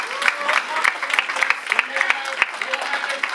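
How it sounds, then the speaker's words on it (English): Audience at a Boston DevOps meetup applauding a speaker after a talk on continuous integration and delivery, a fairly close patter of clapping hands from a modest crowd, with a voice talking over it. "Definitely round of applause for Dr."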